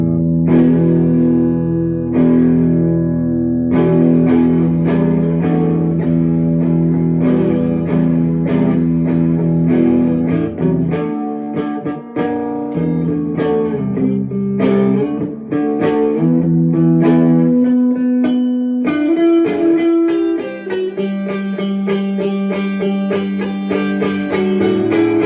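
Clean electric guitar tone played through an HM-5 pedal into a Deluxe Reverb amp, ringing sustained chords and picked notes with pauses between phrases, close and alone with no voices.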